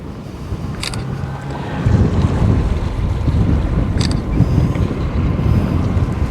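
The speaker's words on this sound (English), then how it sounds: "We got some wind." Strong wind roars and buffets the microphone continuously, with broadband rumble and gusts; water and waves sound faintly underneath, no talking.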